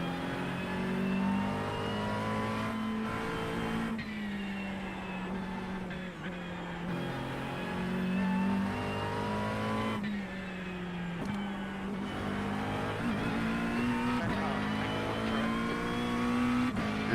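Race car engines roar steadily in the RingMeister VR racing game, with a Corvette and a green BMW nearby on track; loud, continuous engine drone with shifting pitch as cars rev and accelerate, no talking.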